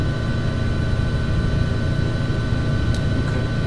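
In Flight Simulator X, a helicopter's rotor and engine keep up a steady, dense droning hum with a faint high whine, loud and unbroken throughout, with no voices.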